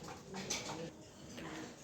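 Racing pigeons cooing in a loft, soft repeated coos with a few brief bird calls, fairly faint and close with some background hiss, no talking.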